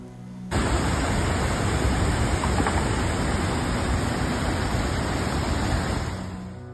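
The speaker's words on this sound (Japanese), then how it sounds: "九州の雨と川の氾濫やばすぎる" Heavy rain and a flooding river in northern Kyushu make a loud, dense, continuous roar of rushing water that starts abruptly and holds steady before easing slightly at the end.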